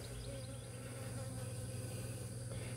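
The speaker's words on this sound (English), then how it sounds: "I still have a lot of bees." Bees buzzing steadily around a hive with comb, a dense continuous drone with no talk.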